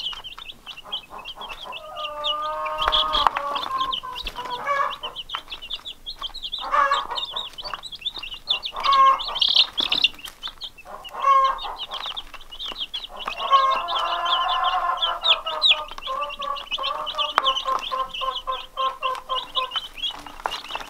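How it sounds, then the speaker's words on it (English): A flock of chickens clucks and squawks close by in bursts, with overlapping calls rising and falling over about twenty seconds of quiet farmyard background. "They're typical chickens, they're gonna get up on something."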